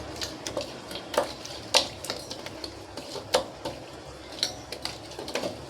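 Salt, turmeric paste and chili powder being mixed into food by hand in a home kitchen, heard as irregular soft clinks, taps and scraping against a bowl with quiet pauses between them and no voices.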